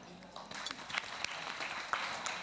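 Audience applause greets a performer's entry onto a theatre stage, a steady wash of many hands clapping at moderate volume with a few sharper claps standing out, and no talking.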